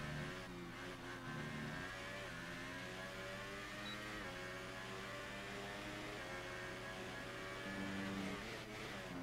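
An F1 2018 video game car on board during an online German Grand Prix race holds a steady, droning engine note that rises slightly under throttle, faint and continuous throughout with no voices.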